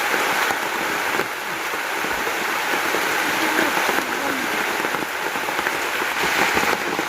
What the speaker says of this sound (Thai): ฝนตกนี่ฝนตกมาแล้วพี่น้อง